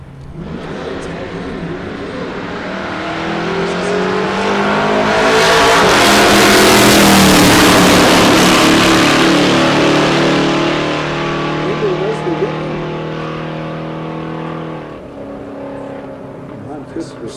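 An engine roar builds, peaks loudly and then fades as a car passes down a drag strip at a nitro funny car meet, with a commentator talking over it.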